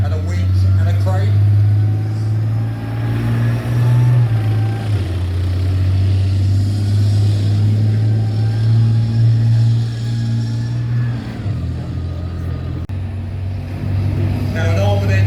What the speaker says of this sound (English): what we've got is a vehicle that can recover the Challenger tanks